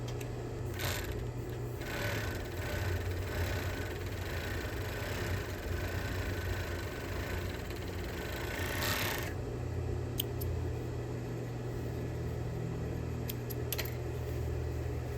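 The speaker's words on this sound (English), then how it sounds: "now I'm going to overlock the front part of the skirt on the side seams" An overlock serger runs steadily while finishing the side seams on the front of a circle skirt. Its close, continuous motor whir and rattle last throughout, with no talking.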